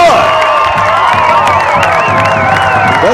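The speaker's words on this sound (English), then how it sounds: "That's been the most cheering all night from the Snowflake fans." Snowflake home fans at a high school football game cheer after a successful extra point, a loud sustained wash of whoops, shouts and some clapping from the stands.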